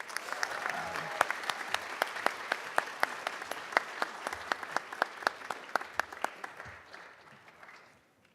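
A school board meeting audience claps steadily for a middle school band, with many distinct hand claps forming a continuous patter. The applause thins and fades out near the end.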